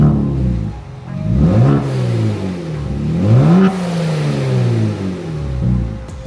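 A Kia Stinger revs with an MBRP catback exhaust and factory primary and secondary downpipes, its engine note climbing and falling through two or three rising sweeps, loud and close with no talking.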